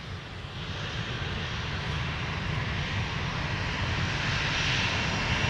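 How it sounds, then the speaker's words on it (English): A heavy jet airliner taking off from a runway at Minneapolis–Saint Paul airport at night, bound for Denmark under a heavy load, its engines a loud, steady, broadband roar that builds slightly and holds, with no voices. "116 Heavy lifting off for Denmark tonight, under quite the load"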